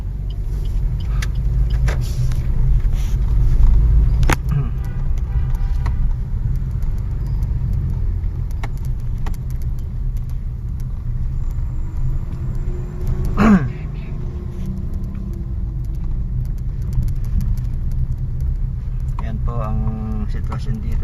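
Traffic rumbles along Mabini Street, a main road in Caloocan City, with a steady loud roar of passing cars and motors and the odd squeak. Someone talks over it throughout.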